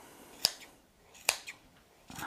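Scissors snipping notches into fabric: three crisp, close, separate cuts spaced roughly a second apart, each a sharp metallic click with a short scrape, in an otherwise quiet room.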